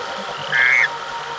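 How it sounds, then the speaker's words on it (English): A rare golden frog gives a single short, high call beside a river, a brief clear note rising above a steady background hiss of flowing water. "the rare and wonderful golden frog. It does have a voice,"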